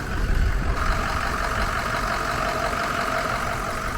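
A Ford F350 with a 6.0 diesel engine idles steadily after an injector repair, a continuous close, even rumble with no voices over it.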